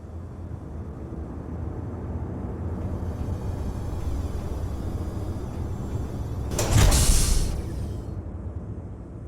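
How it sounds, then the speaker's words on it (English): A large mechanical door slides open in the Space Engineers video game, the main entrance of a rover battle arena, rising as a loud whooshing hiss over a steady low hum of ambient drone. "here's the main door's current functionality"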